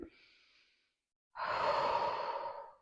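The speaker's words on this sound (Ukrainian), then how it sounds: "Робимо глибокий вдих" One deep breath in, faint and short, then after a pause a long audible exhale close to the mic during a pelvic floor exercise after childbirth.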